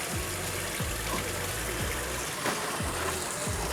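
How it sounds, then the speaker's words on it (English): Tap water runs from a faucet into a basin as a steady, soft hiss and splash, with a repeating low thumping pattern underneath. "turn on faucet,"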